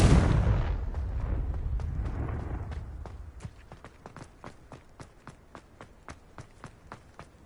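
A Confringo spell explosion in Hogwarts Legacy, a loud broadband blast that fades over several seconds, followed by a steady run of sharp, evenly spaced footsteps.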